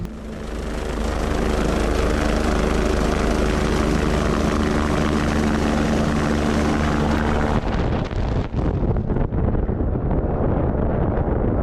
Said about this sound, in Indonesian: suara baling-baling helikopter memecah kesunyian